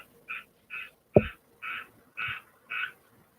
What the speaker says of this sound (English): There's a frog outside.